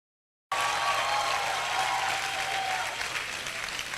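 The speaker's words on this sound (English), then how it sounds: "I expect you to even clap more than you have done" An audience at a university matriculation ceremony breaks into applause after a short silence, a dense wash of many hands clapping that holds steady and then slowly thins.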